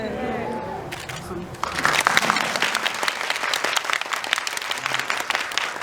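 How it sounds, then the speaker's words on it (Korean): An audience at a Korean film event, with actor Sol Kyung-gu present, bursts into loud, dense clapping that sustains to the end, after a brief stretch of a voice speaking at the start. "박수"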